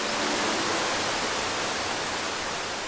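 Pearson's Falls, a waterfall in a protected glen between Tryon and Saluda in Polk County, North Carolina, pours with a dense, steady broadband rush of falling water, loud and close, unbroken throughout with no voices.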